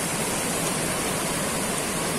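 Loud, steady broadband rush of a fast-flowing stream beside a waterfall along a cliffside path, continuous and close with no pauses and no voices.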